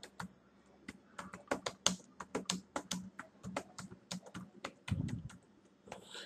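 Rapid irregular keystrokes on a computer keyboard while typing a short English sentence, close and crisp with brief pauses between bursts.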